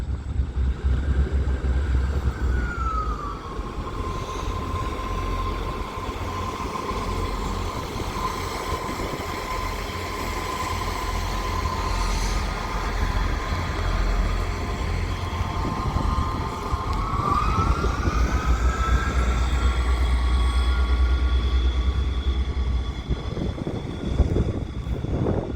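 A Class 158 diesel multiple unit, 158757, pulls out of Bradford Interchange on the Calder Valley Line, its engine droning steadily with a tonal whine that rises and shifts as it departs, loud and close throughout.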